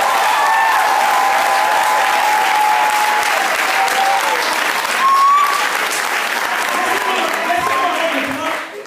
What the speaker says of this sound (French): Acclamons très fort notre Seigneur.